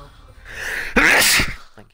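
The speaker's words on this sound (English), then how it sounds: "I keep feeling like I'm about to sneeze." One loud, abrupt sneeze from a person, close to the microphone, followed by a brief spoken remark.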